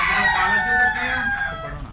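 A Brahma rooster crows loudly and close at a fancy-breed hen farm, one sustained crow running almost the full length without talk.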